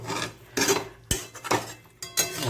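Spoon scraping and stirring a pot of chorchori made with green mango and drumstick stems, several short clattering strokes against the metal, close and distinct with quiet gaps between them.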